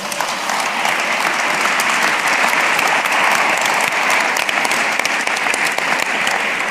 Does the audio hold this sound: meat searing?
no